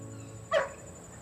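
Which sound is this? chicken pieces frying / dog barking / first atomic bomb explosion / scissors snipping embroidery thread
dog barking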